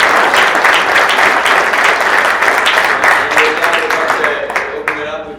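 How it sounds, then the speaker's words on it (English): Audience applause fills a forum panel hall on water policy, a dense, steady wash of clapping that stays loud before thinning out toward the end. "let's give a round of applause for"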